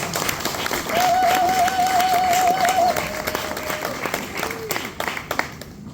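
An audience at a French-language scientific conference on constitutional reform applauds a professor, sustained clapping that slowly thins out, with a voice speaking over it.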